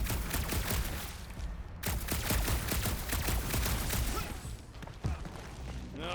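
Dense, rapid gunfire rattles continuously at parasites in Marvel's Guardians of the Galaxy video game, a loud close barrage of overlapping shots with heavier thumps mixed in and no pauses.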